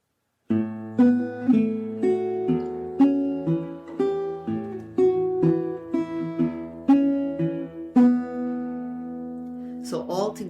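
Blues guitar phrase covering the last two bars, with an alternating bass pattern, a hammer-on and syncopated rhythm: clear plucked notes ring out in an uneven, bouncing sequence, heard alone and close, ending on a brighter strum.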